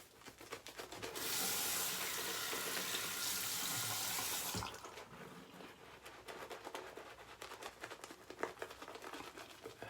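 Water runs hard from a tap for a few seconds while shaving soap in a mug is lathered, a loud steady hiss that cuts off, followed by quieter wet brushing and clinking in the mug.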